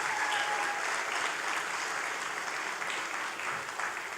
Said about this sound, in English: A round of applause to them this morning.